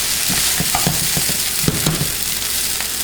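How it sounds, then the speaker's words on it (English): Chicken fried rice crackles loudly in a hot pan while a spatula scrapes and tosses it, making a dense continuous sizzle broken by quick knocks and scrapes, close up and with no voices. "just keep mixing it really well. I want to make sure I break most of the rice before I put in that sauce"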